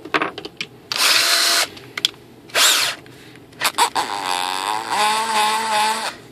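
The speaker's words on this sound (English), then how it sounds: "Okay, time for a drill." A handheld power drill revving in several short bursts with pauses between, then a longer whine that rises and holds steady, close by and loud, used while building an RC sailplane model.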